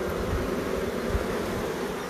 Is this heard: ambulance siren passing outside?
no